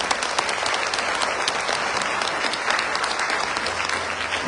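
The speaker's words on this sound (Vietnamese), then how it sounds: "Xin quý vị một tràng pháo tay cũng dường tán thưởng." Steady applause fills a Buddhist meditation hall during the opening ceremony of a retreat in Oslo, Norway, the dense clapping continuing evenly without a break.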